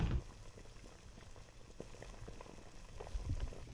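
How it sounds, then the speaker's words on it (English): Squid tubes boil in a pot, giving a soft, continuous bubbling and popping simmer heard close but faint, with a couple of louder thumps at the start and near the end. "these squid tubes boiling away in there like this"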